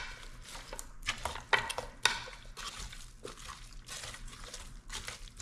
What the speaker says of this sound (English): This is the green onion that we're adding to it. And we're just gonna mix everybody in.